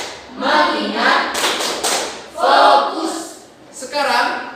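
A classroom of children does the 'tepuk fokus' clapping routine, sharp rhythmic claps close by mixed with loud chanted voices in uneven bursts.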